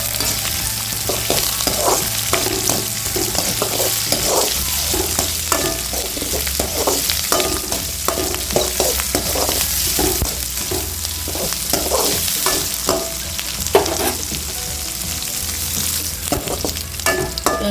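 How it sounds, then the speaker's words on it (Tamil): Onions sautéing in a pan with lentils, green chillies and curry leaves for a yam flower stir-fry, a steady sizzle under repeated scraping stirs with a ladle, close and continuous throughout with no talk. "வெங்காயம் தளவுக்கு வதங்கிடுச்சு."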